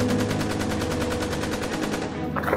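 Rapid machine-gun bursts in a staged India versus Pakistan army skit, a dense rattling stream of shots close and loud, thinning out near the end.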